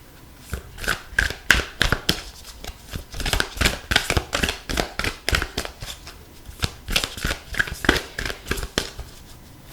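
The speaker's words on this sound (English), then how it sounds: "I always just shuffle until the right card jumps out." Rapid, papery riffling of tarot cards in repeated bursts, close and fairly loud, with brief pauses between shuffles and no talking.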